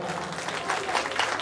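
An audience at a Teacher's Day school program applauds with steady, dense clapping, moderately distant and fairly quiet, growing slightly stronger toward the end.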